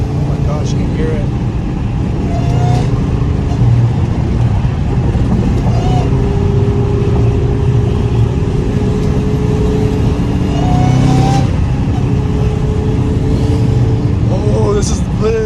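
A twin-turbo Lamborghini rumbles and revs through downtown Los Angeles at night alongside a Hellcat Redeye, its exhaust a steady, loud drone with brief swells, under excited nearby talk.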